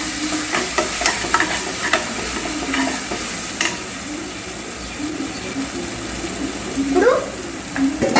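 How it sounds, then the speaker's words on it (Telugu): Ginger garlic paste and curry leaves frying in a pan, a steady loud sizzle with occasional stirring scrapes and clinks, close up and continuous throughout. "ఇవి ఒక 5 మినిట్స్ దాకా బాగా వేగిపోవాలి ఫ్రెండ్స్."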